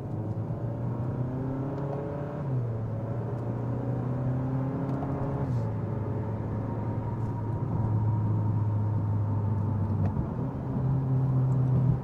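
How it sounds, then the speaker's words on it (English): A Kia K5 GT with a small turbocharged four-cylinder and 8-speed automatic in manual mode accelerates hard in first gear, its engine note rising steadily in pitch over twelve seconds with a brief shift-like dip, loud and close, no talk. "knock it down to first gear, and let's let her eat for a little bit."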